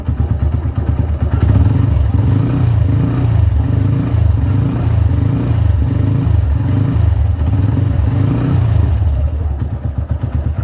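Self-start motorcycle engine running loud and close while its battery charges, a steady chugging idle with rhythmic throttle revs pulsing throughout, voice barely present.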